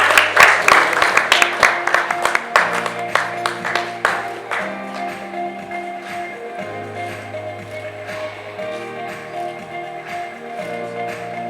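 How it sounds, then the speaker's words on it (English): Applause at a launch event for Banking and Financial Services Awareness Month 2020: a burst of close, rhythmic clapping that fades after about four seconds, giving way to sustained tones and background sound. "Another round of applause."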